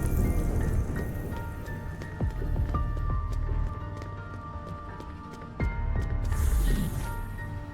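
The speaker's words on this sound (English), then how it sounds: "Walk in the rain." Steady rain falls in the video game Black Beacon, a dense, continuous patter of drops with occasional sharper splashes and drips, close and fairly loud throughout.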